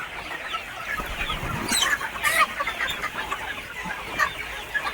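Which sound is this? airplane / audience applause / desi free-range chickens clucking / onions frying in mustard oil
desi free-range chickens clucking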